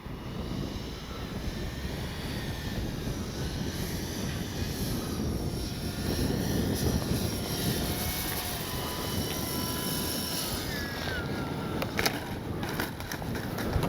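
A radio-controlled F4U Corsair warbird model airplane drones steadily outdoors as it comes in to land, its engine hum continuous with wind noise and faint scraping toward the end.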